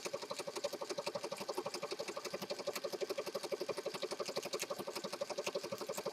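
Rapid, steady needle punches from a sewing machine stitching paper envelopes for a junk journal, heard close and fairly quiet, with an even mechanical rhythm holding for several seconds without speech.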